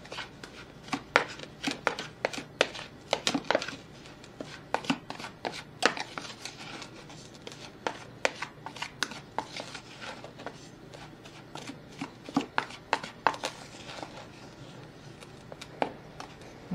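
Flaxseed wrap ingredients being mixed in a bowl: close, quick, irregular scraping and tapping strokes that continue in busy bursts throughout.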